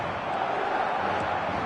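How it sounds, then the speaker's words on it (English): Stadium crowd cheering in the football video game eFootball 2025, a dense continuous roar of many voices at steady loudness throughout, with no distinct speech over it. "the crowd level has gone up a notch or 10"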